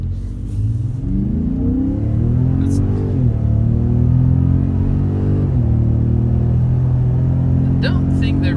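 A 2018 Ford Raptor truck with the Rocky Ridge Stealth package drives in sport mode, its engine revving and rising through gears in a loud, close cabin rumble.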